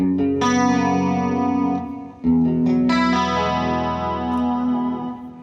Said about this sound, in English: And then we add a little bit of just basic digital delay.